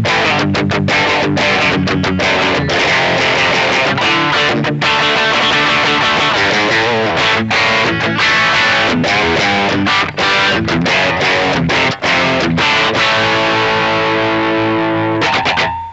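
Electric guitar played through a Roland Cube 20 XL amplifier on its distortion setting, loud and continuous, with chords and picked notes ringing out and short gaps between strums, no voices.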